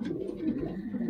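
A pigeon coos close by, a soft throaty rolling call lasting about a second with a low, steady warble and no voices.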